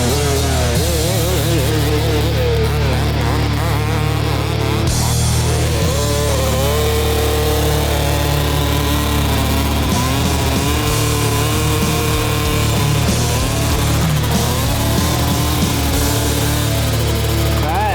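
A small engine fitted with a very short muffler runs continuously close by, a loud, harsh, buzzing drone with shifting revs and occasional brief dips in pitch.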